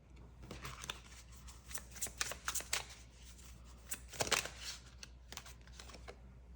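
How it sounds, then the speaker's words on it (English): Tarot cards handled and drawn, with a run of quick papery shuffles and riffles in clusters, close and fairly quiet, no talk. "I'm going to get some more cards out before I say anything."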